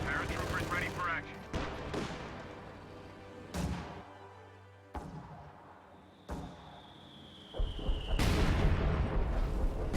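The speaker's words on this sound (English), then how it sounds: "Sherman is moving up to fire with his high explosive rounds" Sherman tank firing high explosive rounds in a World War II strategy video game, several sharp separate loud blasts with decaying rumbles amid gunfire, and a whistling projectile sound near the end.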